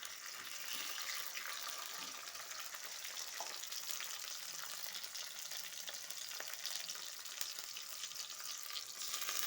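Chopped tomatoes hit onions frying in ghee for a katla kalia fish curry, giving a continuous soft hiss and sizzle with occasional light stirring clicks, heard faintly and without talk.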